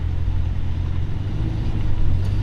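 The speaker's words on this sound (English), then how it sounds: "Now I will tap the accelerator pedal and we can move" A 1942 Packard 160 convertible pulls away after a light tap on the accelerator, its low steady engine rumble close and continuous with a slight swell near the end, no talking.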